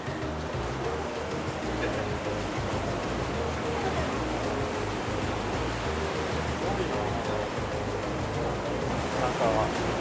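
Ocean waves surge into a wave-eroded sea cave on a rocky coast at Shirahama, Wakayama, on a day with fairly high swell, a steady loud broadband roar of rushing water that fills the whole stretch.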